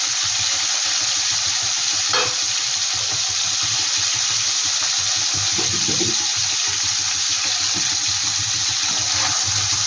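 Koi fish sizzle in hot oil in a pan while being fried for a spicy Bengali oil-based curry, a steady loud crackling hiss close by with faint clinks of a spatula now and then, and no voices.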